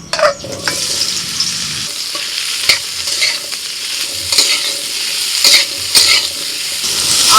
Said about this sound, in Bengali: কড়াই অল্প তেল দিয়ে আম দিয়ে দিচ্ছি